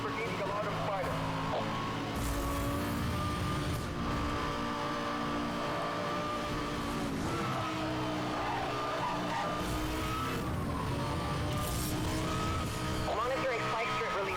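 A Lamborghini Gallardo Spider races in Need for Speed: Hot Pursuit, its engine a steady droning whine that rises and falls with gear changes, joined by brief tire and wind noise over about fourteen seconds.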